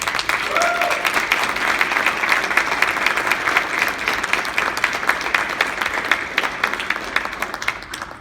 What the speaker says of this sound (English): With the members of First Squad, please stand for a round of applause.